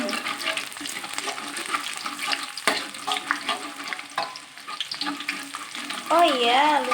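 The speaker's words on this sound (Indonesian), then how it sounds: "kita panasin minyak mam. Terus kita masukin potongan bawang merah." Sliced shallots frying and being stirred in hot oil for an Aceh-style grouper stir-fry, a steady crackling sizzle with scraping stirs throughout, moderately loud and close.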